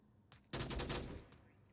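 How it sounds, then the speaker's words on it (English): A burst of rapid automatic gunfire in the VR shooter Onward, one loud sustained volley of about three-quarters of a second followed by a fainter single shot, with no talking. "I would say those gunshots definitely gave away the position there."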